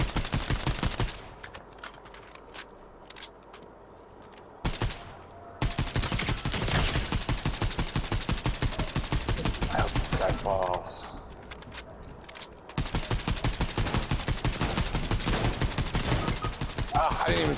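Rapid gunfire in the video game Fortnite comes as long, fast volleys of shots separated by brief pauses, loud and close, while a player talks over it.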